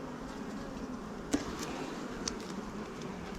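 Honey bees hum steadily around an open hive during a varroa mite treatment, a faint continuous drone with a couple of brief sharper clicks.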